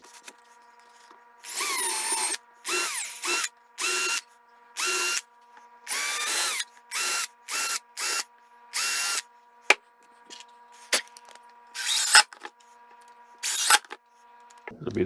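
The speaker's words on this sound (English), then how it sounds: "So more drilling." A power drill drives screws into the joints of a wooden box: about a dozen sharp, whirring bursts close by, separated by short pauses and a few clicks and knocks, with no talking.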